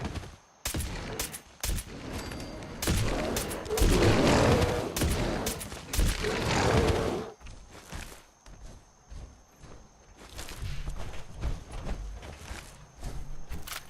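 A gun in Fallout 4 fires in a dense, loud stream for several seconds, then continues in scattered bursts and shorter volleys after a brief pause.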